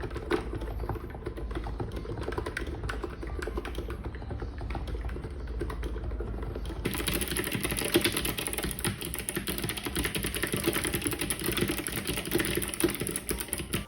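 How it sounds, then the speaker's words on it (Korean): Continuous typing on a Kailh optical-switch keyboard and an ABKO Hacker K965P V2 electrocapacitive keyboard, rapid and steady; the clacking shifts partway through to a brighter, louder set of keystrokes. "광축 키보드의 시끄러운 소음에 비해 무접점 키보드인 K965PV2 제품이 소음이 확실히 적다는 것을"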